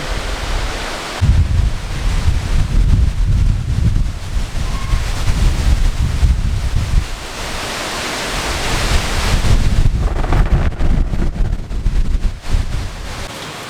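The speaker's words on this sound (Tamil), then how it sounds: "வெளியில் ஜோன்னு மழை பெய்யுது பயங்கர காற்று நீங்கள் அந்த சத்தத்தை மட்டும் கேட்டு பாருங்களேன்" Heavy rain and strong wind roar steadily outside a house near coconut trees, a loud, dense wash of noise with gusts swelling and easing throughout.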